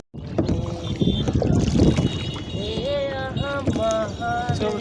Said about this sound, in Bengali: চলছে আমাদের নৌকা